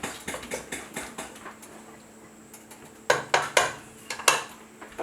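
A spoon knocking and scraping around a pot of porridge, quick irregular clinks and taps close up, with a quieter pause in the middle before a busier burst of stirring.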